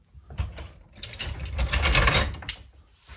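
Clamps being handled, their ratchet mechanisms clicking and grinding in quick bursts, close and fairly quiet.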